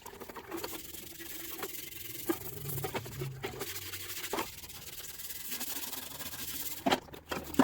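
A soft, irregular scrubbing comes from gently rubbing oxidation off the outside of an aluminum tea kettle without abrasives. Short strokes start and stop, fairly quiet and close.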